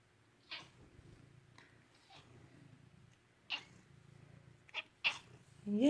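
Bengal cats give a few short, soft meows and chirps spaced across a quiet room, fairly faint and close, with faint low background hum between calls.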